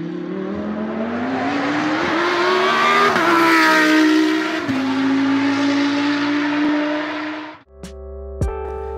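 A high-performance kit car engine revs loudly and steadily, pitch climbing and holding, then cuts off abruptly followed by a couple of brief mechanical sounds.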